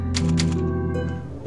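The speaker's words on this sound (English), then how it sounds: "let's hit the typewriter" Typewriter save point in the video game Resident Evil 4, a quick pair of sharp mechanical key clacks followed by a resonant ringing tone that fades out, loud and close.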